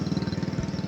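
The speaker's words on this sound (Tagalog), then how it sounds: "Dito may dumadaan na motor." A small motorcycle engine puttering close by with a rapid, regular pulsing beat, heard alone for under a second.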